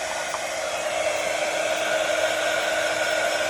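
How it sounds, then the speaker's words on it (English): A heat gun blowing hot air to dry varnish on a gold book cover, a steady close whooshing fan hiss with a constant motor whine, unbroken throughout. "My heat gun."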